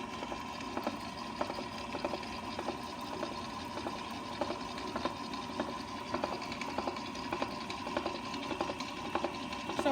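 Faint electric stand mixer beating eggs into pate sucree batter, a quiet steady whir with regular rhythmic ticks throughout.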